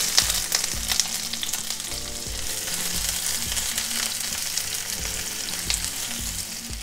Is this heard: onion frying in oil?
yes